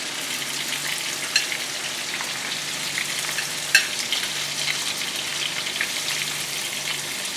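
Small pieces of pork sizzle steadily in hot oil for tonkatsu, a dense broadband crackle with a few sharper pops standing out, close and fairly loud with no one talking.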